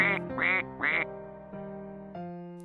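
A cartoon duck gives three loud, nasal quacks in quick succession, followed by sustained tonal notes that fade out. It is close and clear, with no talking.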